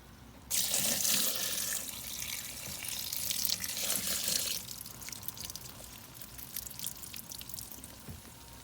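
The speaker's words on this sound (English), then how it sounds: "Pour some water in." Water runs from a tap into a container of reclaimed clay, a strong steady splashing stream that starts abruptly, then thins to lighter trickling and drips.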